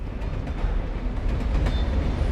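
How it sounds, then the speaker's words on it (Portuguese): A train rumbles past in the Alan Wake game, a steady, broad low roar at moderate level throughout with faint rattling, no voices. "Ah, o trem."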